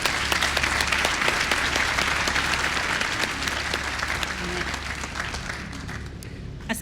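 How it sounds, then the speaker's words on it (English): An audience at a Class of 2022 commencement ceremony gives one more round of applause, a thick, continuous wash of clapping that holds for several seconds and then trails off toward the end. "One more round of applause"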